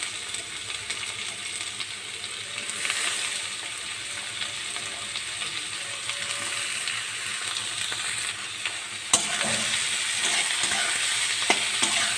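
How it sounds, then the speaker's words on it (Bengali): Finely sliced ash gourd fries in a pan with cumin and a dried red chilli, giving a steady, close sizzle that runs for the whole stretch, with a brief sharp clink of a utensil near the end. "ঝিরিঝিরি করে কেটে রাখা চাল কুমড়োগুলো দিয়ে দেবো"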